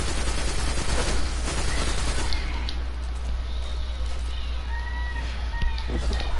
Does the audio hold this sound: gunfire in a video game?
yes